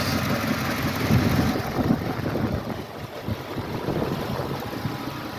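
A classic car's engine runs steadily nearby with a low, continuous rumble and some wind buffeting, no one speaking.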